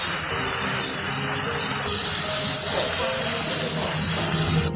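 Spicy rustic fenugreek leaf curry cooking over a high flame, with a loud, continuous steamy hiss that holds steady from start to finish.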